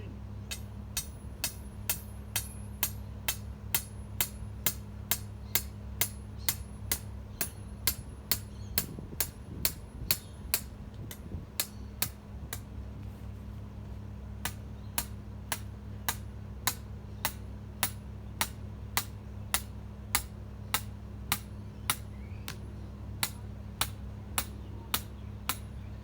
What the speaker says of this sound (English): And then hammer it in.